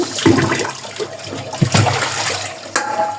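Running water rinsing a scaled hilsa fish, splashing and trickling up close in uneven bursts with a few sharp knocks.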